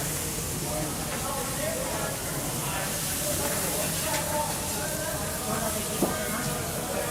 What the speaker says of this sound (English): we can hear the sizzle of the steak going on